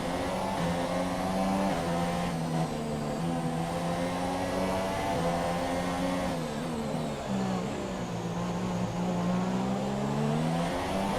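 Formula 1 race car engines in F1 2017 at the Australian race, a loud high-revving whine that shifts pitch with gear changes and throttle, continuous and close with other cars around.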